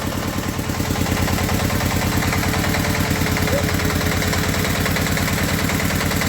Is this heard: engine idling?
yes